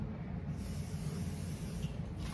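Spray paint hissing from an aerosol can onto a vase during a DIY hydro dipping project, one continuous close, steady spray lasting a couple of seconds with no talking.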